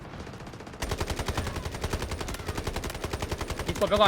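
An M7 rifle fires in the Delta Force video game: loud, rapid automatic gunfire that starts abruptly and continues in sustained bursts, with a player speaking briefly over it.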